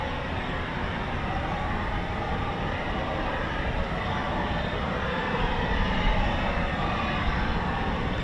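A Eurofighter Typhoon FGR4 jet, powered by two Rolls-Royce EJ200 engines, gives off a steady, loud broadband roar that holds evenly throughout and swells slightly toward the end.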